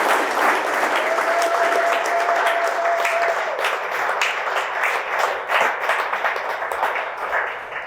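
An audience at a gallery talk breaks into steady, loud applause that continues throughout, a dense wash of many hands clapping at once.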